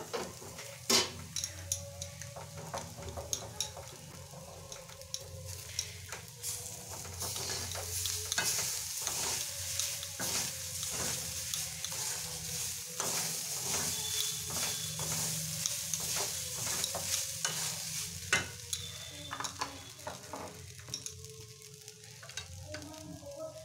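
Potatoes and beans fry in a pan for flattened-rice pulao with a steady sizzle, punctuated by repeated clacks of a spatula stirring against the metal.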